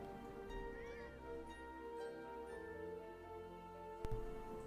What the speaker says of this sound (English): The cats yelled out Rosie's new warrior name excitedly.